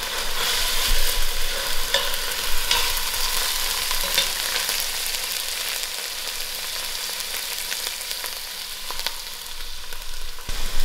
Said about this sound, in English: We have to fry these ingredients so the onion is